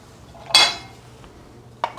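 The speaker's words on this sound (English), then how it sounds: "And I'm going to put in my onions," Onions dropped into a pan with extra virgin olive oil give a single loud clattering rush of pan and utensil noise, followed later by a brief clink, with no sizzle evident.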